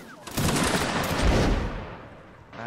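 A musket volley in a Napoleonic Wars battle video game, a dense, loud burst of overlapping shots that rolls on for about two seconds before fading.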